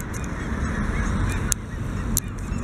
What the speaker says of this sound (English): the attack of the geese over there